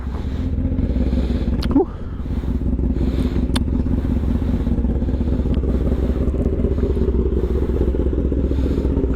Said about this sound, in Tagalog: At the same time, makapagpainit na rin ng motor.